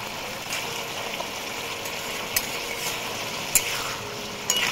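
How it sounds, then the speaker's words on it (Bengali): A pan of cauliflower-stalk chorchori with mustard, salt and sugar is stirred over steady frying sizzle, with a few sharp utensil scrapes and taps against the pan, close and continuous with no talking. "ভালো করে একবার নেড়ে দেবো"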